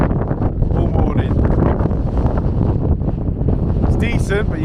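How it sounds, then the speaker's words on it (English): Strong wind buffets the microphone on the snowy summit of Helvellyn in the Lake District in winter, a loud continuous roaring rush with gusty swells throughout, and a person speaks briefly through it. "as you can hear, it's windy"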